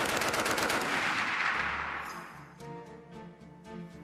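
A Browning Automatic Rifle firing in a long, loud, dense burst of full-auto shots, followed by several separate booming reports with echo as the burst breaks up.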